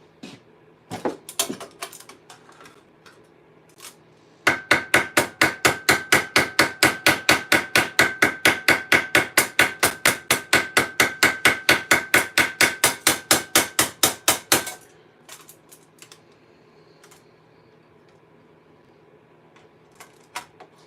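Metal hammer striking a rivet on half gauntlet armor, a fast steady run of about thirty sharp ringing blows lasting ten seconds, preceded by a few scattered taps and handling clatter.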